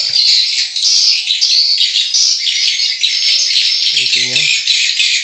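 Swiftlets chirping inside a swiftlet house, a dense, continuous chorus of high twittering calls filling the room, loud and close, with a brief lower rattling call near the end.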